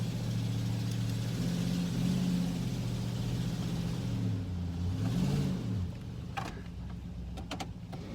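A Nissan Titan truck reverses with the brakes held lightly, its engine droning steadily with a rising and falling whine, then easing off near the end amid faint clicks.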